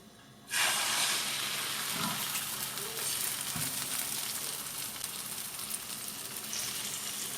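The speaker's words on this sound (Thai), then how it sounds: "โอเคใส่ลง ไปทอดเลย" Vegetables for a vegetable omelette dropped into hot oil, a sudden burst of loud sizzling that settles into a steady crackling fry with a couple of utensil knocks.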